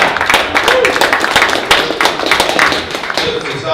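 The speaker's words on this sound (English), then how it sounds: "I think that deserves a round of applause" An audience at a Wednesday morning startup meetup gives a round of applause, a dense, close burst of many hands clapping that carries on steadily, with voices mixed in beneath it.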